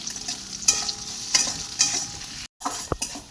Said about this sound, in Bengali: দিয়ে একটু নেড়ে নিয়ে তারপর আমি আদা রসুন বাটাটা দিয়ে দিলাম।